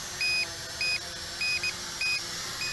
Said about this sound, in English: And I got two different types of beeps going on.